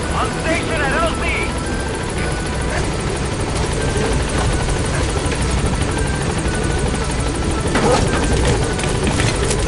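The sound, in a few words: Video game helicopter (B-Quad) arriving at landing zone, Metal Gear Solid V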